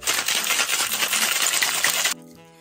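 Ice cubes dropped into a glass for a mezcal and Kahlua cocktail clatter and clink in a dense, bright two-second burst, then fade into a short ringing tail.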